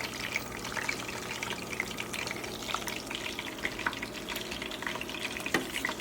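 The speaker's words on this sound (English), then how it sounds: "Fish not hard to fry, you know." Fish frying for Jamaican escovitch fish, a steady close crackling sizzle with small pops throughout, no talk over it.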